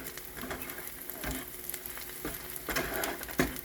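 Onions fry in a skillet for a squash casserole: a quiet, steady sizzle and crackle runs throughout, broken by several soft scraping stirs of a utensil against the pan.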